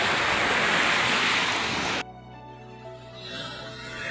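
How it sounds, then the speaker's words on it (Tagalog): Sea waves wash steadily onto the shore in a loud, continuous roar for about two seconds, then cut off abruptly to a quieter, distant surf wash. "Yan, sarap maligo sa dagat oh. Grabe, ganda ng dagat ngayon."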